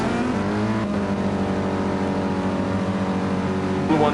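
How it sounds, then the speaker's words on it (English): Race car engines in a GT Sport pit lane, at the Catalunya circuit during qualifying, roar in a steady, dense drone with a slight shift near the end, loud and continuous with no talking. "We are here from the pit lane, listening to the roar of the engines."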